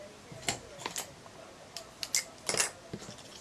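Scissors snipping through card, a few sharp, quiet clicks and short crisp cuts spaced irregularly over a few seconds, with no talking.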